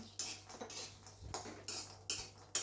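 Cashews dry-roasted without ghee on a low flame in a pan, stirred briskly with a metal spoon that scrapes and clinks against the pan in a quick irregular run of bright hits, close and fairly quiet.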